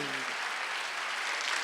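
Congregation applause fills a church during a Sunday worship service, a dense burst of clapping from many hands that continues steadily throughout.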